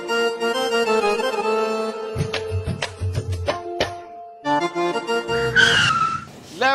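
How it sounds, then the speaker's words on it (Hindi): A car pulls in with tires skidding and squealing over a steady musical backing, the engine and tire noise clear in the middle and again near the end. "अब आवे गाड़ी।"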